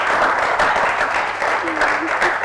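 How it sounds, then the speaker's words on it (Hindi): Studio audience claps on a Pakistani reality show set, a steady patter of applause lasting a couple of seconds, with a voice briefly cutting through near the end. "तालियां हो जानी चाहिए"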